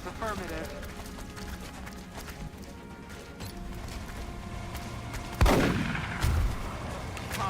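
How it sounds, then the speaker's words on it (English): A shotgun blast in the XCOM Long War strategy game booms loudly about two thirds through, followed by a second heavier impact, above a busy game soundscape and a voice talking. "So let's try this with our shotgun."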